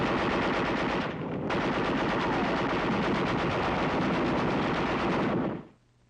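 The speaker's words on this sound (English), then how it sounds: "fires alongside our caliber 30 heavy machine gun" Two machine guns fire together, a captured Japanese 25 Nambu light machine gun alongside a U.S. .30 caliber heavy machine gun, in a WWII combat setting; loud, continuous rapid bursts with a brief dip near the start, stopping abruptly at the end.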